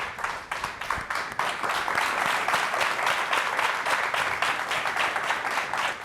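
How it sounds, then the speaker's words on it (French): Studio audience on a French TV game show applauding the winning contestant at the end of a match. Steady, dense hand-clapping continues evenly throughout, close and loud, with no voices over it. "Félicitations à elle, on l'applaudit."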